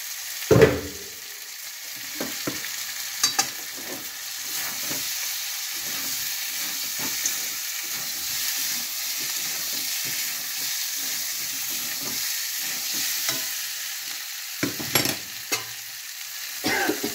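Boiled eggs frying in spiced oil for an egg and potato curry give a steady, close sizzling hiss, broken by occasional stirring clicks and a louder pop at the start.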